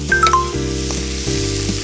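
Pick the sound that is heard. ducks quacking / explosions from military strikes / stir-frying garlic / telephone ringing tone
stir-frying garlic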